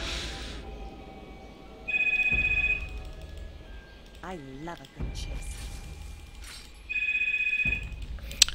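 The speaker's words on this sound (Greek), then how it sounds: "Μη χτυπάς τηλέφωνο, όχι τώρα!" A telephone rings in two electronic trilling bursts spaced several seconds apart over a low background hum, with an unrelated short warbling tone in between.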